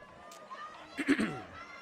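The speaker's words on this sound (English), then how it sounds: "This crowd on hand tonight, enjoying every minute of this." High school football crowd at a night game between Broken Bow and Sallisaw, a distant murmur of voices swelling into a brief cheer near the middle, with an announcer talking over it.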